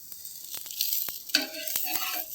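A crispy rava dosa sizzles on a hot pan, a steady hiss broken by several sharp clicks and scrapes of a spatula, close and fairly quiet.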